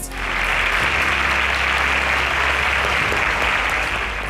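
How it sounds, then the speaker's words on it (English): A round of applause from a student quiz competition audience at a semi-final, a full dense roar of many people clapping that starts abruptly and holds steady and loud throughout. "A round of applause"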